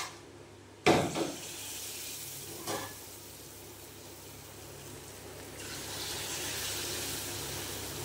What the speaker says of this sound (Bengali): তো সেটা গরম হয়ে গেছে, সেই জন্য এইবারে দিয়ে দেবো ব্যাটারটা